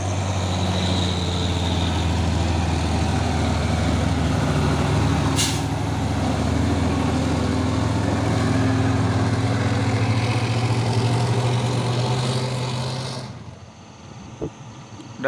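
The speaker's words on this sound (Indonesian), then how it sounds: "ada truk Fuso Victor X yang akan beraksi melewati tanjakan Bukit Kodok" A Fuso Victor X dump truck labours up the steep Bukit Kodok hill, its engine droning loud and steady with a hiss of air brakes, before the noise cuts away sharply near the end.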